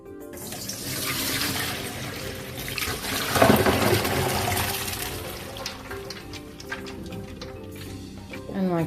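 Hot water from boiled samp and beans pours out of a pot through a strainer, a continuous rushing, splashing flow that swells in the middle before tapering off into lighter trickles and clatter.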